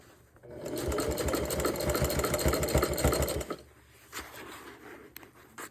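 Sewing machine, freshly cleaned and oiled, stitching a jelly roll rug: a loud, steady rapid needle chatter runs for about three seconds, then stops, leaving quiet handling noises and faint clicks.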